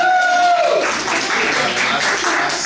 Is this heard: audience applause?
yes